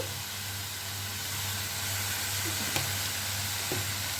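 Liquid soy sauce and vinegar hitting a hot pan for spring roll filling, bringing a steady, broad sizzling hiss with a couple of faint clicks, close and constant, with no talking.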